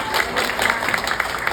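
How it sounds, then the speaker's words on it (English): Audience applause for a speaker at a performing event, a brief burst of dense clapping close by, with a faint crowd murmur underneath. "Please give a big round of applause to Mr. Joe Lorenzo."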